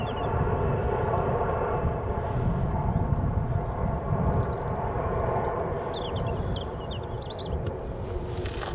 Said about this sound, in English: Thunderous noise from the engines. You don't normally hear that loud.